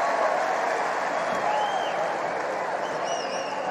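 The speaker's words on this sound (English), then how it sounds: "The crowd are on their feet, no wonder." Tennis crowd applauding and cheering after a Jannik Sinner point, dense continuous clapping filling the stadium with scattered whistles and shouts, loud and sustained throughout.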